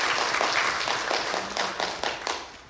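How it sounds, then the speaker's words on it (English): A room of participants at a cloud computing study jam claps for the event staff, a brisk, fairly close patter of many hands that gradually thins and tapers off. "So I would like to ask for your help to join me in giving them a round of applause for"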